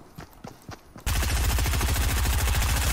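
Gunfire in the video game Fortnite: a few soft thuds, then one sudden loud burst of rapid automatic shots that keeps hammering at an even fast rhythm to the end.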